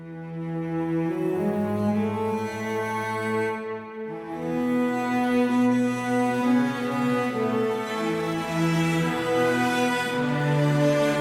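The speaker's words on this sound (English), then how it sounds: "The strings as a whole sound something like this." A full string section plays sustained, layered chords that shift slowly with a brief dip in the middle, lush and steady with no talking.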